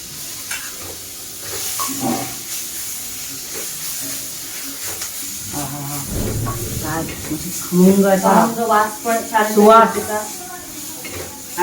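Leaves and green chillies sautéed in a pan for a chilli kharda, with soft sizzling and scraping stirs that build toward the end, while someone talks over the cooking.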